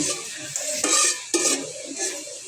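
Onions frying in a pan for a taki fish bharta, with a bright continuous sizzle and a couple of louder stirring scrapes, close and without talk.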